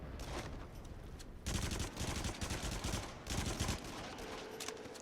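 Continuous rapid gunfire with explosive rounds in the shooter game Until Dawn: Rush of Blood, with dense overlapping shots and blasts rising and falling in intensity, loud and busy with no talk.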